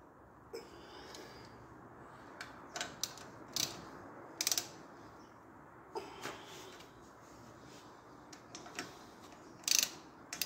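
Bolts being tightened on the gearbox of a Volpino diesel walk-behind tiller, a series of sparse metallic ratchet clicks and clacks scattered over ten seconds, close but fairly quiet, with no talking.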